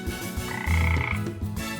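Cartoon frogs croak in an animated children's story, a cluster of close, overlapping throaty croaks in an uneven rhythm, fairly loud with no voices over them.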